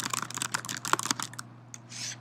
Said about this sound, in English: And then you can start typing.